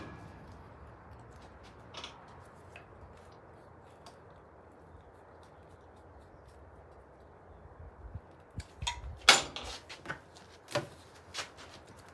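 Rear axle nut on a Honda CRF150r dirt bike being loosened with a wrench: a quiet stretch, then a few sharp creaks and metallic clicks close by near the end, with no talking.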